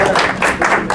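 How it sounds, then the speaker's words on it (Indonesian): Audience applause for a pastor's wife, Bu Hadi, at a church service, a brief burst of dense, steady clapping from a crowd, moderately loud with no talking over it. "Tepuk tangan untuk Bu Hadi."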